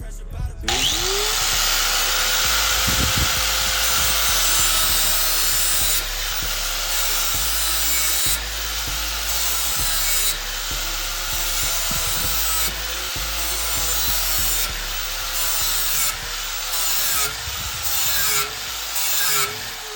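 A lawn mower blade is sharpened with a grinder, giving a loud, continuous abrasive whine with a steady tone that dips and rises as the blade is pulled across the wheel in repeated passes, some talk mixed in.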